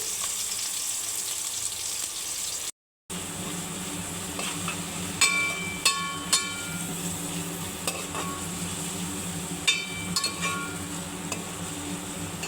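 Onions and grated carrot sizzle steadily in a pan for a pasta dish, with a constant frying hiss and a few light clinks and stirring scrapes, no voices.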